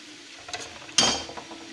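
A spoon stirring tuna flakes in oil in a pan, with a couple of soft scrapes followed by a sharper clink and a brief sizzle that fades away, with no one speaking.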